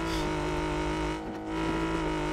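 A car engine in a video game (PUBG) drones at a sustained high rev while the car is stuck on a railing, steady and unchanging with a slight dip midway, with no talking.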